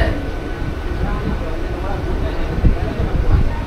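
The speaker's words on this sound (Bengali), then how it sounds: "টিকড়ায় দাঁড়িয়ে এবার আমাদের ট্রেন ছেড়ে দেবে" Digha–Howrah local train pulling out of Tikra station, a low rumbling roll with rising clanks and jolts from the wagons, heard loud and close from on board under a constant hum.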